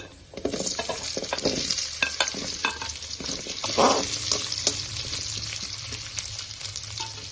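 Raw sweet potato pieces sauté in a hot pan with other ingredients, a steady close sizzle broken by repeated scraping and stirring clatters, with no voices.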